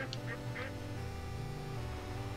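A duck in the video game Legend of Brofist quacks a few times in short, clear calls over steady game music and a low background drone.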